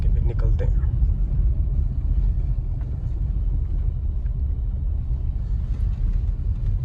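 A car being parked at a university campus gives a steady low engine rumble close by throughout, with faint muffled voices in the background.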